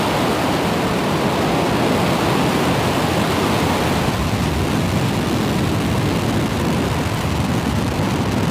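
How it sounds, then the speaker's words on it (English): Falcon 9 rocket lifting off for Space Norway's ASBM launch to Molniya orbit, a sustained, dense roar of broadband rumble that holds loud and steady throughout, with no voices. "Ignition. And liftoff of Falcon 9."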